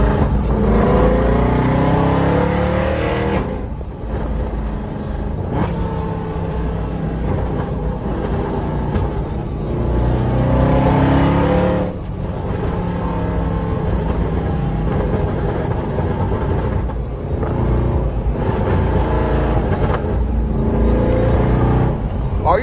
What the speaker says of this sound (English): Race car.